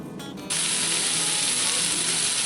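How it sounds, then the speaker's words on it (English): Mushrooms and onions hitting butter and bacon fat in a big cast iron Dutch oven, a sudden loud hissing sizzle that starts after a brief quieter moment and then holds steady and close, with no talking. "The first thing I'm doing is sauteing my mushrooms and onions in the Dutch"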